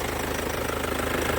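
A warmed-up car engine idles close by, a steady, loud rumble with an even, rapid pulse and no voices over it.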